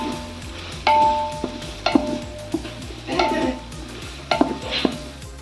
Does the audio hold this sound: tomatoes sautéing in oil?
yes